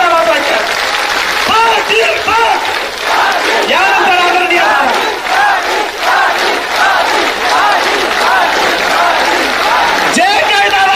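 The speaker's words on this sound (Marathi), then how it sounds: "प्रचंड टाळ्या, टाळ्या 2 मिनिट टाळ्या वाजवायच्या" A large crowd at a Narayan Gad rally welcomes Manoj Jarange Patil with loud, sustained applause and roaring shouts and cheers, dense and continuous, while someone speaks over the noise through a loudspeaker.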